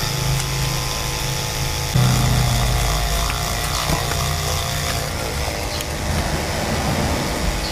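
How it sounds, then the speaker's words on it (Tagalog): A power drill fitted with a small bit bores a hole for a homemade 144 MHz camping antenna, whirring steadily and loudly up close, with a shift in pitch as the bit engages. "subukan natin kung pasok dito yung ating drill bits"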